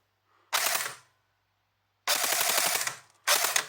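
Short and longer bursts of rapid mechanical whirring and clattering come from an airsoft MG42 AEG gearbox cycling without firing, close-up, separated by silences.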